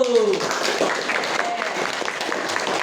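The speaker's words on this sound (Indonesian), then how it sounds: "beri tepuk tangan dulu." A classroom of students applauds together, a continuous, fairly loud mass of clapping with a brief voice and a few cheering sounds at the very start.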